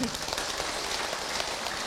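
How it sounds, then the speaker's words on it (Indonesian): An audience applauds Ibu Emil at an Islamic preaching gathering, a dense, steady patter of many hands clapping throughout, fairly loud and close with no gaps. "Terima kasih tepuk tangan buat Ibu Emil"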